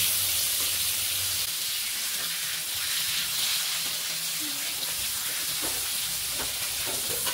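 Bombay duck (bombil) fish frying in a pan, a steady sizzling hiss with soft stirring and scraping sounds, fairly close and continuous throughout.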